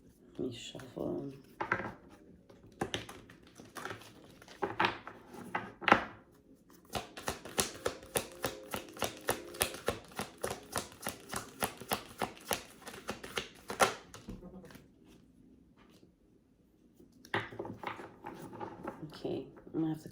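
Rapid riffling and papery flutters of tarot cards being shuffled, with a dense burst in the middle, while a person talks quietly before and after.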